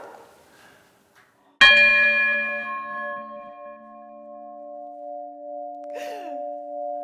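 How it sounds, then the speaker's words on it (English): A single strike on the oldest working bell in London, a medieval guild bell, rings out loud and close, then decays into a long sustained hum with steady overtones over several seconds. "since this is the oldest working bell in London"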